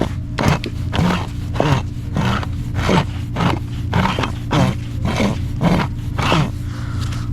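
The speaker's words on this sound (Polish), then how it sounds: "Jakaś pompa. A, to był kompresor." An old compressor pump turned over by hand, giving a repeated rhythmic wheezing and scraping about once per second, close and fairly loud.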